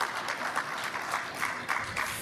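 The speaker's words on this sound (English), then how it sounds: "ladies and gentlemen, let's give them a round of applause" An audience at a trade and investment forum applauds after a panel discussion, a dense, even wash of clapping at moderate level that swells slightly and continues without pause.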